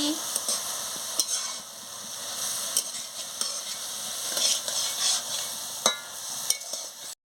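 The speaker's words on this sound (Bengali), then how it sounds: "এবারে স্বাদ মতন আমি চিনিটা দিয়ে দিচ্ছি। দিয়ে ভালো করে নাড়িয়ে নিচ্ছি।" Papaya chutney with sugar stirred in a pan, a steady close sizzle broken by repeated sharp spatula scrapes and taps against the metal, no voices.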